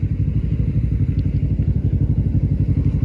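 A motorcycle engine idles and putters at low revs, close and loud, with a steady thumping pulse and a slight clattery texture throughout.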